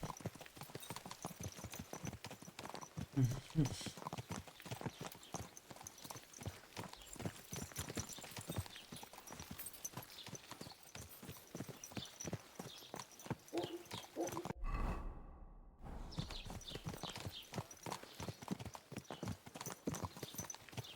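Horse hooves clip-clop in a steady rhythmic gait during riding in the medieval game Kingdom Come: Deliverance 2, loud and continuous, with a brief dip partway through and faint voices now and then.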